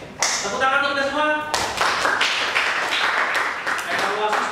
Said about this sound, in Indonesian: Baik, tepuk tangan untuk kita semua.